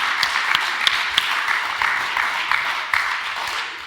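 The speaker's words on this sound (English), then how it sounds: "put your hands together, generous round of applause to Professor Ben Goldacre" Audience applause at a live Oxford talk, a steady patter of many hands clapping at moderate loudness with a few sharper individual claps, continuing throughout.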